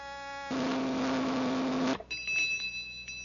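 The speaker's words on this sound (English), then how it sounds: "The better it tastes, the louder it'll ring the bell." A toy flavor-meter machine loaded with cereal first gives a loud, steady electric buzz for about a second and a half, then rings with a bright, high bell tone.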